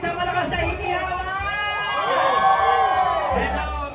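Loud crowd cheering and whooping at a Pasig Day grand civic parade, a dense roar of voices with some babble that swells in the middle and stays strong to the end.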